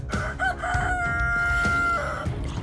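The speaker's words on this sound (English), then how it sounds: "if you heard that rooster crow, you know it's time to wake up" A Minecraft rooster crows once, loud and close, a drawn-out call with a rising start and a long held tail.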